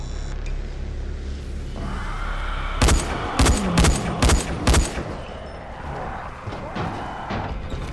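A short burst of gunfire from 2.8 to 4.8 s, five sharp shots in quick succession, cuts through a steady in-game ambience while players fight zombies in Dying Light. Quieter noise follows the burst.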